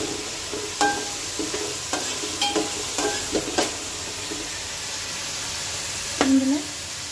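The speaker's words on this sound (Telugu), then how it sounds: "వీటిని బాగా కలుపుకోవాలి. ఇది బాగా వేగాలండి." Paneer biryani ingredients with mint and coriander fry in a pan, giving a soft continuous sizzle broken by scattered light scrapes and taps of stirring, with one louder clatter near the end.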